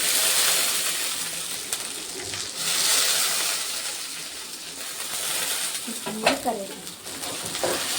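Fish curry being stirred in a pan with coriander and curry leaves, a steady scraping stir over continuous sizzling frying, close and moderately loud, with a few sharper clinks of the spoon against the pan near the end.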